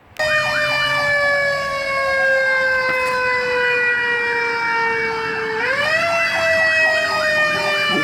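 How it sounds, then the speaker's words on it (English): A fire truck siren wails loud and close, a long, slowly falling electronic tone that sweeps back up near the end, sounding alone without speech. "You hear the sound of the fire truck?"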